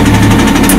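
Engine of a T-60 tank cranking over and catching, giving a loud, close, steady mechanical roar with a dense throbbing drone, brief and without speech.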